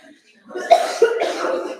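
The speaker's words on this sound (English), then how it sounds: "Don't get me coughing now," A single person coughs twice in quick succession, close and fairly loud, with a rough breathy tail.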